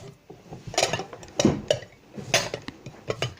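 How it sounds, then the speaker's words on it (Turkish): A spoon stirs in a dish, making quick clinks and scrapes in a few short bursts, close and clear, with no talking. "Yine karıştırıyorum."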